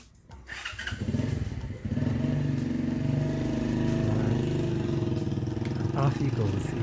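A motorcycle fires up nearby and settles into a steady, full rumble as the rider pulls away at moderate speed, with someone talking over the engine noise.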